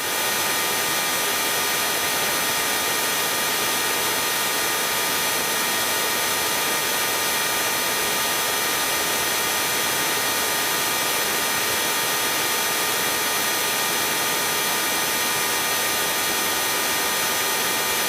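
A small airplane's engine drones steadily in flight, loud and close from inside the cabin, a constant unbroken roar with a faint high whine and no talking.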